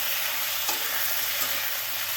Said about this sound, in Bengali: আমি পেঁয়াজ দেবো, পেঁয়াজ দিয়ে ভালো করে ভাজবো।